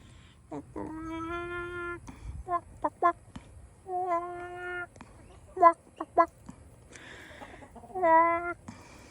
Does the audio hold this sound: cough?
no